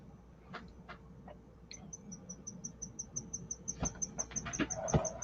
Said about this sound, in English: Let's hunt down a cricket.